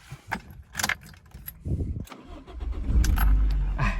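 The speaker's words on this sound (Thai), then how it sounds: "มาฟังเสียงเครื่องยนต์กันดีกว่าครับ" Keys jangle briefly, then a used Toyota car's engine with manual transmission cranks and catches, settling into a low steady idle close by.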